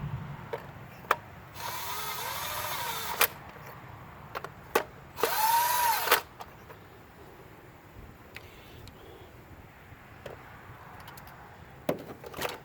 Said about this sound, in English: that's all we're doing with the impact here, is just getting them snug